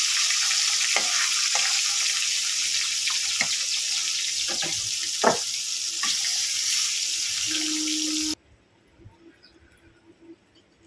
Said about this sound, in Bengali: মাছগুলো আমি ভেজে নেবো এবার একটু।